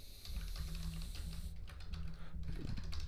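Quick, soft keystrokes patter on a computer keyboard in a steady burst, close and quiet, with no talking.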